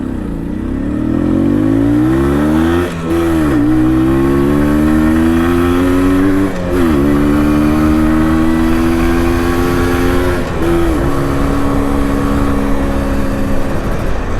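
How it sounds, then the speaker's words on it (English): An MZ TS125, a 1980s two-stroke motorcycle of 1960s design, ridden around town, its engine buzzing loud and steady throughout, with rising revs that dip briefly at three gear changes before climbing again. "Riding around town on a 2-stroke from the 1980s, designed in the 60s."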